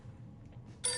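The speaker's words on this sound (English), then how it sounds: "There's a phone ringing." A telephone starts ringing in the post-apocalyptic survival game 60 Seconds! Reatomized. It is a bright, bell-like ring that begins abruptly near the end after faint low background hum.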